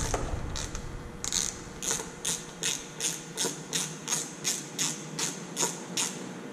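Screws come loose from the headlight of a BMW F800GS motorcycle under a ratcheting Torx T20 or T25 key. The ratchet pawl clicks up close in a steady, even rhythm, about a dozen clicks in a row.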